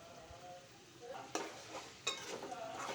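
Turmeric being stirred into drumstick and potato curry frying in a pan, a faint low sizzle with two distinct clinks of a utensil against the pot as it mixes.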